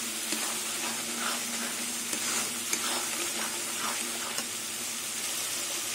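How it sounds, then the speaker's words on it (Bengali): Spice paste made with poppy seeds and melon seeds fries in oil in a pan over a very low gas flame for a silver carp fish curry, giving a steady close sizzle with faint stirring scrapes. "গ্যাসের আগুনটা একদম কমিয়ে দিয়ে মশলাটা কষাতে হবে, নাহলে পুড়ে যাবে।"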